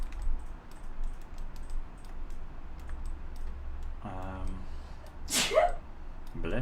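A single sharp sneeze near the end, close and abrupt, following a quiet stretch of faint ticking and low room noise.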